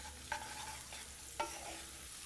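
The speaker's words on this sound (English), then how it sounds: "When they start sizzling, it's time to add the onions." Steady sizzling of cumin seeds and onions frying in hot oil, with a couple of soft scraping stirs breaking through the constant hiss.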